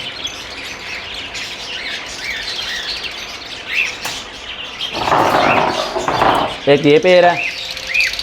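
A breeder pair of lovebirds, albino black-eyed split red-eyed, chirps and squawks in bursts that grow louder and busier toward the end, with someone talking over them.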